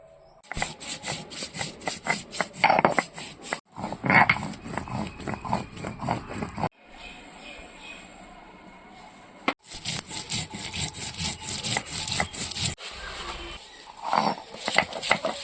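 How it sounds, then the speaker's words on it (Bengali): Mustard and poppy seeds are ground on a shil nora grinding stone, with rhythmic close rubbing and scraping strokes repeated in bursts and a short quieter pause in between. "রান্নাঘরে এসে শিলনোড়া নিয়ে বসে পড়েছি তো এখন আমি ডাটা চচ্চড়ি করার জন্য সর্ষে আর পোস্তটা বেটে নেব"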